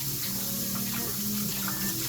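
Cold tap water runs steadily into a cooking pot as it is rinsed, a constant close splashing flow with no voices.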